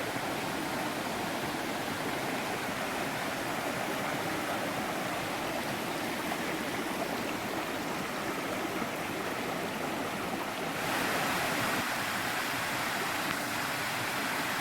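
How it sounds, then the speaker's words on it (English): North Harper Creek in Pisgah National Forest rushes over slanted mossy rocks beside a trail, a continuous close, broadband flowing roar that swells slightly louder near the end. "This is a really awesome spot along North Harper Creek, right beside the trail."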